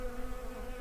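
Steady, droning buzz of many bees swarming around a desert campsite near a hot spring, a continuous close hum without voices.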